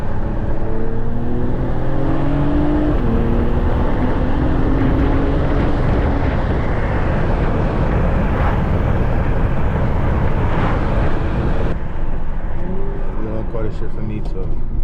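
Acura TLX Type S with a PRL high-flow air filter pulls hard under acceleration in a low gear of its 10-speed, a loud continuous engine drone with rising harmonics and road roar throughout, with talk from inside the cabin.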